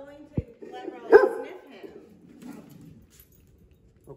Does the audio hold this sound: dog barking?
yes